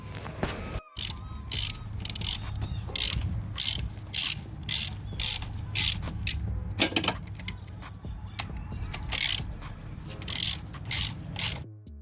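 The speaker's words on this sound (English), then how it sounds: "Use a 15mm socket to take off those 15mm bolts." Repeated socket ratchet clicking in quick bursts while 15mm transmission mount bolts are backed out on a 2005 Ford Focus, a close, steady pawl rattle filling the whole stretch with brief pauses between strokes.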